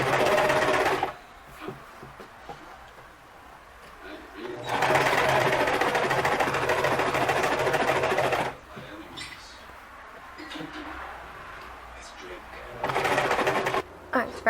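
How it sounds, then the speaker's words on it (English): A sewing machine stitches pleats into a cosplay tunic in two loud, steady bursts and a short final run. Quiet talk and handling noises fill the pauses between bursts. "So once again, you measure out 1 inch and sew on the 1 inch."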